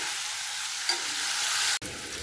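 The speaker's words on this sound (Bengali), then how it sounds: "সেই আলুগুলোকে এবার তেলে দিয়ে দেব। আলুর মধ্যে নুন হলুদ দিয়ে ভালো করে নাড়াচাড়া করে নেব।" Diced potatoes fry in oil with salt and turmeric, giving an even, close hiss with one stir partway through before a brief cut.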